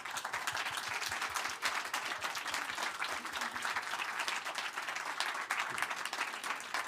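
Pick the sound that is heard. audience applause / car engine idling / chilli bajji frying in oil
audience applause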